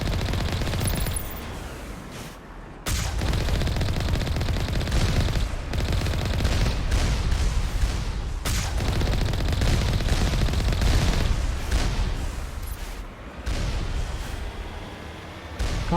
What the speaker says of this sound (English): Wait, is someone shooting at me?